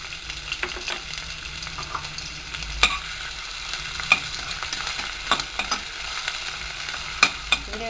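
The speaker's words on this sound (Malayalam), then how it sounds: "ചൂടായി കഴിയുമ്പോൾ അതിൽ ഉള്ളി ഇട്ടിട്ട് നന്നായിട്ടൊന്ന് വഴറ്റിയെടുക്കണം." Onions sauté in hot oil inside a pressure cooker for soya chunk biryani, with a constant close sizzle and irregular clinks and scrapes of a stirring utensil against the metal pot, no talking.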